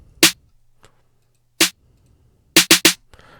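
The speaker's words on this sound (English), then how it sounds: "and then a snare pattern." A programmed trap snare pattern: single crisp hits spaced apart, then a quick burst of three in a row, with a few faint ticks between and no talking.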